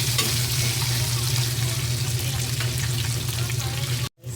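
Garlic and string beans fry in a hot pan with a loud, dense, continuous sizzle while being stirred, a low hum beneath, before the sound cuts off abruptly near the end.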